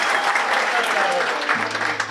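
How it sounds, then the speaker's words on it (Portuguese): Studio audience clapping during a couples' battle game show, a steady dense patter of applause that carries through the whole stretch with voices talking over it. "Palmas, Marcelo, palmas!"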